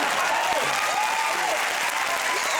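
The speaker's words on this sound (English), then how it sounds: "Round of applause." A studio audience applauds steadily throughout, a dense, even wash of clapping from a large crowd that holds its level without fading.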